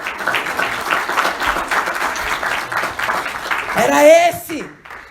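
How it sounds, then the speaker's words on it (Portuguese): Applause fills the room at a church sermon for several seconds, then a voice rises above it near the end as the clapping fades. "Dá uma salva de palmas a ele."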